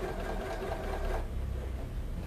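A Janome DC7060 sewing machine running at its slow speed setting makes a soft, steady close hum that fades slightly partway through, with no talking.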